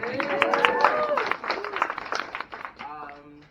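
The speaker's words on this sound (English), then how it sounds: "Hey, clap up for you guys too." Convention panel audience claps and cheers in a lively burst that fades toward the end, with voices calling out over the applause.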